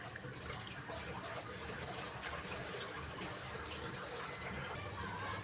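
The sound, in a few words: washed lentils being poured into water in a pot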